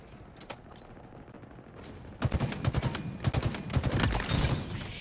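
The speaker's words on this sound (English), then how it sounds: "Machine guns suit you, Spartan." Machine gun fire in Halo Infinite Big Team Battle on the Breaker map: a few scattered shots, then a dense, loud, rapid burst of automatic fire that keeps going through to the end.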